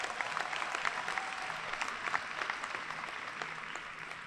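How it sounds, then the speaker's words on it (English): Applause from the audience at the Hillgrove High School class of 2025 commencement, an even, distant-sounding wash of many hands clapping from start to finish. "Let's give them a round of applause."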